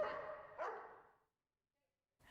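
A dog gives a couple of short, close barks or yips, then falls silent before another brief sound at the very end.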